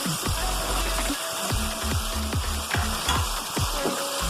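Steady sizzling and frying of potatoes, papaya and pigeon meat in a pan, with repeated scraping clinks of a utensil stirring the food at a regular pace, close and fairly loud.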